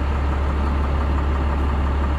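A MaxxForce diesel engine in a school bus idles steadily with a deep, even low rumble, held in gear with the spring brake applied, and no voices over it.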